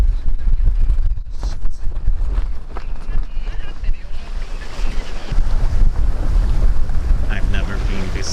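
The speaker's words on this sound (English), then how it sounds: "I hope the waves stop soon." Strong wind buffets the microphone and heavy waves surge and crash around a sailboat crossing the Kattegat off Sweden in winter under sail alone, a loud continuous roar with rushing water throughout.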